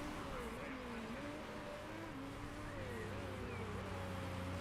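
Race cars lapping a circuit in the Motorsport Manager racing management video game, a steady engine drone with shifting pitch running continuously throughout, with no pauses or breaks.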